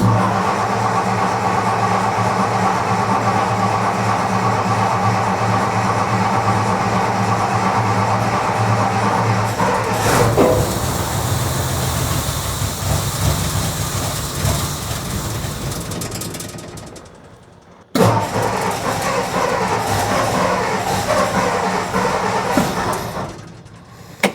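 An old Ford F100 truck engine cranks with the choke pulled out, trying to start. A long rhythmic mechanical grinding runs loud and close, stops near seventeen seconds, then resumes after a brief pause.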